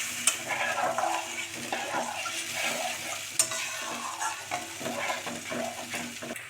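Water hits a fried spice paste in a pan for a coconut curry with sarpunti fish, giving a steady sizzle under repeated scraping stirs of a spoon against the pot.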